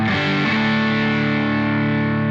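Electric guitar through a modded Rat pedal set as a low drive booster into an amp, a single sustained chord with a slightly gritty edge ringing out loud and close, no voices.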